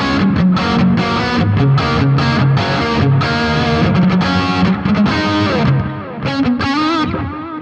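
Electric guitar played through a Roland Space Echo tape echo using tape heads 1 and 3, steady loud chords and notes with repeating delayed trails, continuous throughout with no talking.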